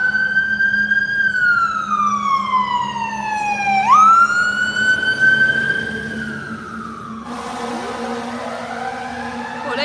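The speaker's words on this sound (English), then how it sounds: "Can y'all hear those sirens?" Fire truck sirens wail nearby, one sweeping tone rising and falling repeatedly while a second siren joins toward the end, loud over a low rumble of traffic.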